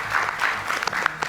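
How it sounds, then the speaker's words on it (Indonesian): An audience claps at a political talk event, a brief burst of steady, dense applause that is close and fairly loud. "kita berikan tepuk tangan, Bung Adian."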